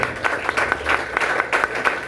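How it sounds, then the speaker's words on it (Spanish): Congregation applause at an evangelical church service: a brief burst of clapping from a crowd, fairly steady and moderately loud, with some claps standing out in a loose rhythm. "Denle un aplauso al Señor"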